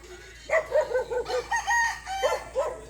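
Chickens at a rural coop in Mindoro Occidental, Philippines cluck and crow, with repeated close rooster and hen calls in bursts over quiet outdoor background.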